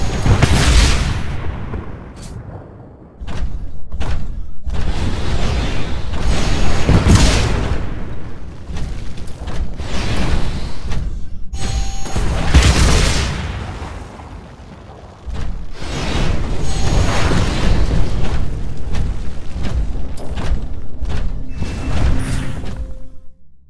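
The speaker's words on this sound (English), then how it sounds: "Move down the hallway while avoiding the rockets." Rockets explode down a hallway in the video game Titanfall, with repeated loud, close booming blasts and crashes arriving in irregular bursts, some with brief sharp cracks, separated by short rumbling lulls.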